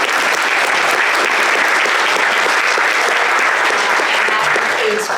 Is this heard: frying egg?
no